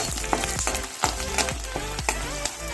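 Peanuts, curry leaves and turmeric fry in a pan with a loud, continuous sizzle. Regular scraping strokes of a stirring spoon sound roughly twice a second, close up, with no talking.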